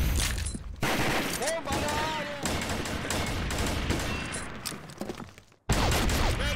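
Rapid gunfire bursts and shots in the online shooter Combat Arms during an official match, with the M14 rifle in use, sustained for several seconds under overlapping voice chat, then a brief drop to silence before the firing resumes.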